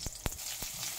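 Spices sautéing in a pan for mung beans, a brief steady sizzle with a couple of soft utensil knocks.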